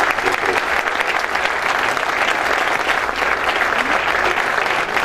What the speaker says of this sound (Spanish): Un aplauso muy fuerte para Cemex.